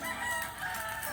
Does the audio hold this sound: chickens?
yes